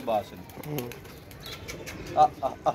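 Soft pigeon coos come in short bursts near the start and again toward the end, with faint wing flutters and background murmur.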